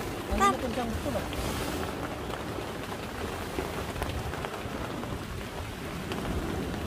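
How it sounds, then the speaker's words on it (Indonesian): Rain patters steadily on a tent at a family campsite in a storm with strong wind, a dense, continuous hiss with one brief louder burst at the start and people talking beneath it. "Oh, hujan nih."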